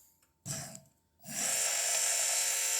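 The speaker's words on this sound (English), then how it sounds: "the power steering pump goes. This is out of an MR2, Toyota MR2, and I'm really impressed with how quiet it is." An electric power steering pump taken from a Toyota MR2 powers up with a short whirring burst, then settles into a steady, fairly quiet high-pitched whine that holds without speech.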